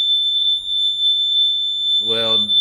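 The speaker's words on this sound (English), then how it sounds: "that's going off of my alarm in my place" A home smoke alarm beeps continuously at a steady high pitch in the room, with a person starting to talk near the end.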